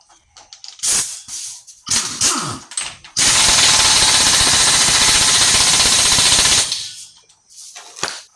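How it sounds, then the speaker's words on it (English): A power impact wrench tightens the front axle bolt on a 2016 Honda Civic during strut, brake and wheel bearing work, with short loud bursts followed by a sustained three-second rattling hammer, then a final brief burst. "We're going to tighten this bolt here. The axle bolt."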